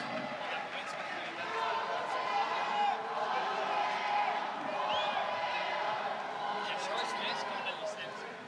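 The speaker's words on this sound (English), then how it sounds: "Goalie, goalie, that's what the crowd is chanting." Football crowd in a Mexico City stadium chanting at a match, a broad, steady roar of many voices sustained throughout, with rhythmic swells and a commentator talking over it.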